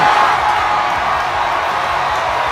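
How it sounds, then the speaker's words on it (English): Video game crowd in WWE 2K23 cheering after a wrestling finish, a steady, dense roar of arena noise that holds loud and unbroken throughout. "The crowd is ecstatic, and you can't blame them"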